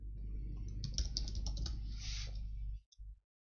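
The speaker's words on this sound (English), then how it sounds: "So I can type anything here" Typing on a computer keyboard while editing a file in the Unix vi editor: a quick, steady run of close key clicks lasting a few seconds, then a brief pause and a couple of final keystrokes.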